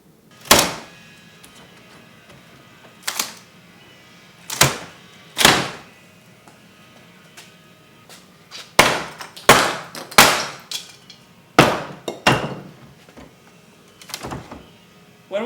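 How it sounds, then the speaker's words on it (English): An old garage door and its jamb are torn out during demolition, with a series of sharp creaks, squeals and cracks as nails are pried loose, spaced irregularly and close by. "When we're doing demolition on a door like this, of course we're going to take the door jamb out"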